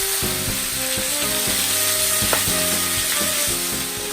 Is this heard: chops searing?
yes